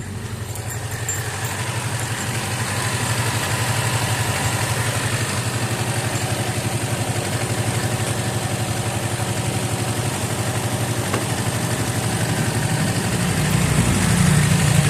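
A freshly started engine runs steadily at idle, loud and close, a constant low rumble that holds for the whole stretch and swells slightly toward the end, with no talking over it.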